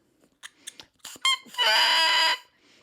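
A freshly made day-one double reed crowed on its own: a few short squeaky chirps, then a loud, buzzy, wild sustained crow lasting nearly a second, close and unaccompanied.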